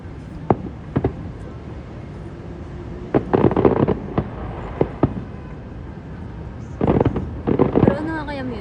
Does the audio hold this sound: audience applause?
no